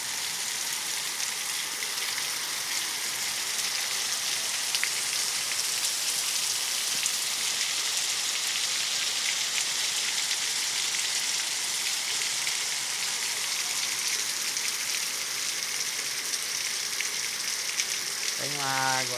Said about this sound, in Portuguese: Chuva, chuva. Chuva no Maranhão.